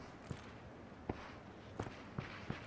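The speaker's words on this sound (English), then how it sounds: "You hear the footsteps." Footsteps of a player crossing ground in PUBG, a handful of soft, irregularly spaced steps heard faintly from a distance over a quiet, hissy background with no talk.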